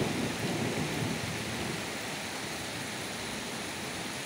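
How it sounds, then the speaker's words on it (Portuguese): Heavy rain pours down steadily in Samambaia, Brasília, with a deep rumble of thunder early on fading into a constant, loud wash of rainfall. "Chuva intensa aqui na Samambaia, Brasília."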